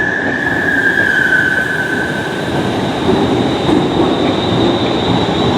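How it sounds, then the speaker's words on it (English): Trains rolling out of Glasgow Central station, including a Cross Country Voyager and ScotRail services, give a steady loud rumble of wagons with a squealing tone from the wheels, close by and continuous with no talk. "We've got the Cross Country Voyager departing."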